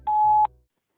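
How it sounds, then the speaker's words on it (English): Answering machine beep tone: a single clean electronic beep lasting under half a second, loud and alone, followed by silence. "At the tone, please record your message."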